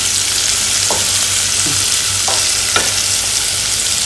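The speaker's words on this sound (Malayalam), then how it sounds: "അതിൽ തന്നെ സവോളയൊക്കെ വഴറ്റിയാൽ മതിയല്ലോ" Sliced onions sauté in oil inside a pressure cooker for paneer biryani, giving a loud, continuous sizzle with a few soft scraping stirs.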